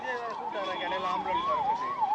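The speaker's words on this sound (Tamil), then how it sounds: "எதுக்காக ஆம்புலன்ஸ் இத்தனை வாட்டி போயிட்டு போயிட்டு போகுது" An ambulance siren wails in a steady rising and falling pattern, loud and close as it passes, with no talk over it.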